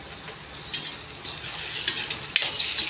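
Two eggs scrambled into egg keema in a hot pan, a continuous sizzle with quick spatula scrapes and light metallic taps, close and without talk.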